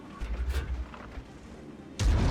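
Booming tank cannon shots from World of Tanks, a burst of thumps early on, then a heavy blast near the end, with no talking.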